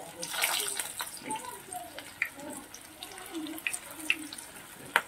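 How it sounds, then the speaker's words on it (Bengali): Snacks dropped into hot oil over a low-medium gas flame sizzle with a steady hiss, scattered crackles and pops throughout, close and moderately loud. "এইভাবে সবগুলোকে আমি তেলে ছেড়ে ভেজে নেব।"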